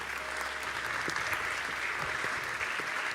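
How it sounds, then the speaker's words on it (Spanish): A conference audience at the Congreso Futuro 2023 event claps steadily to welcome a speaker to the stage, a dense, even roar of applause throughout. "Un fuerte aplauso también para recibirla."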